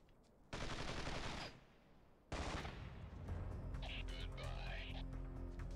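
Gunfire in the Ghost Recon game on PS2: two loud bursts of rapid automatic fire, the second running longer, with a brief quieter gap between them and some game noise afterward.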